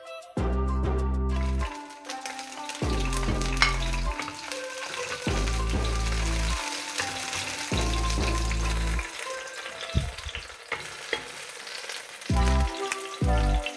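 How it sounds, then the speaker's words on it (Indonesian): Spring onions hit hot oil in a pan, sizzling in loud bursts of several seconds each that start and stop repeatedly as the pan is stirred, close by and with no talking. "Kita panasin minyak secukupnya aja. Pertama-tama kita tumis daun bawangnya."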